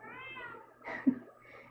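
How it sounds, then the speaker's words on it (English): A single short cat meow at a door, fairly close, rises briefly over a quiet background hum. "Meowing away at my door."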